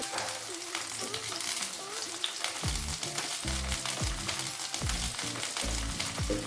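Chopped tomato and onion frying in hot oil for tomato soup, a continuous hiss with rhythmic scraping strokes of a stirring spoon in the pan, close and with no talk.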